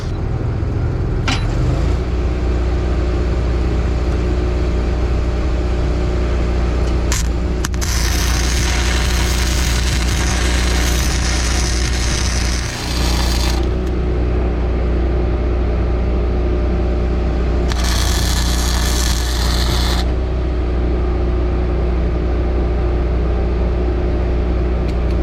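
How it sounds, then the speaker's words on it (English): Arc welding along cracks on a CAT 140M motor grader, a steady sizzling crackle with two bright bursts of arc over a constant low engine hum, close and loud, without talk. "All right, welding."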